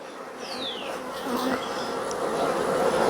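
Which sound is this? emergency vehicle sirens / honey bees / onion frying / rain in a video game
honey bees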